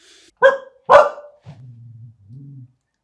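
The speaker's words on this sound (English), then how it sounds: "we've got a dog" A dog gives two sharp, close barks in quick succession, followed by a low, rumbling growl that trails off, with no talking around it.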